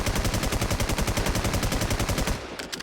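A Honey Badger rifle in the game Infestation fires in fast sustained automatic bursts, loud and close. The fire runs without a break for over two seconds, then cuts off.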